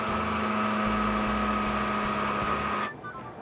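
A blender whirs loudly and steadily through a batch of vegan cheese sauce for nachos and pasta, holding one constant motor whine before cutting off abruptly near the end, leaving quiet room noise.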